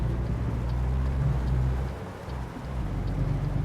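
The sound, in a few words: thunderstorm rain and thunder in truck driving video game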